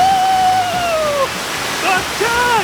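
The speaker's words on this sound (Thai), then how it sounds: "ไปตรงไหนก็มีแต่น้ำตก" Nang Khruan waterfall in Tak province, Thailand, pours as a steady, loud broadband roar of falling water, with faint whistling tones running over it throughout.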